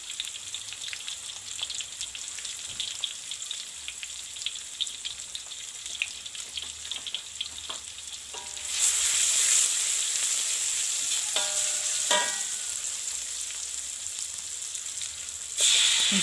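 Water poured into spice paste frying in a pan for mangleng, a hiss that rises abruptly into a loud, steady sizzle, with stirring clinks before and another burst of sizzling near the end.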